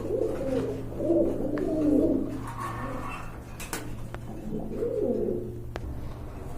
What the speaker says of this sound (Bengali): এখানে কিন্তু এক জোড়া চিলা কবুতর দেখতে পাচ্ছেন